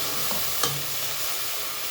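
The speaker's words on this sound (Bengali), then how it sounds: "এবার মশলাটাকে বেশ ভালোভাবে কষিয়ে নেব।" Spice paste of turmeric, coriander powder and fennel paste stir-fried in a pan for a broiler chicken khichuri, a steady close sizzle with a brief scrape of stirring, no voices.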